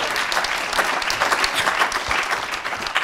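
A conference audience at DrupalCon Prague 2013 bursts into loud, full applause, a thick continuous patter of many hands that fills the whole moment without talk.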